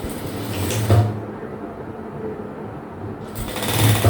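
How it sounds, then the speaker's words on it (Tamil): A sewing machine stitches a folded quarter-inch hem on a maxi dress, running loudly and steadily in a close motor whir with a brief pause in the middle. "இப்படி ஃபோல்ட் பண்ணி 1/4 இன்ச்சில் தையல் போட்டுக்கலாம்"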